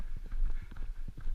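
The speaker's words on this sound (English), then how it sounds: "this horse just went flat gallop over this ground" A horse gallops flat out over rough steppe ground in the Mongol Derby, its hoofbeats a quick, uneven drumming of dull thuds, fairly close but muffled, with no talk.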